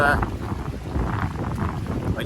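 Wind buffeting on a Lake District hilltop, a steady rushing gust roaring across the microphone, with a faint voice underneath.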